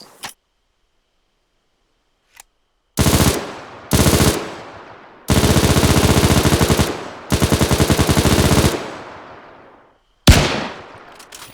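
Machine gun fire with tracers in the IFA3 mod of a video game: several sharp, loud bursts of rapid automatic shots, the longer ones running a few seconds each, separated by silent gaps with a lone crack or two between them.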